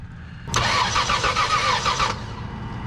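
A 2000 Toyota 4Runner with a fuel pump fault cranks after the key turns, the starter churning loudly and steadily for about a second and a half before cutting off, with no engine catch afterwards.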